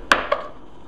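A kitchen knife chops a partly microwaved potato into chunks on a board: two sharp, close cuts a fraction of a second apart, then quiet.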